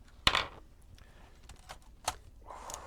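A laptop keyboard is handled and pressed into place, with a sharp snap, scattered light plastic clicks and rattles, and another firm click, close and moderately loud against a quiet background.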